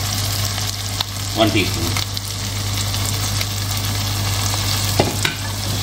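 Whole spices, bay leaves, star anise and cumin seeds, roasting in hot oil for aloo gosht, giving a steady close sizzle with a few stirring scrapes and clinks throughout.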